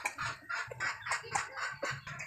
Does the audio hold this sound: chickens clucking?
yes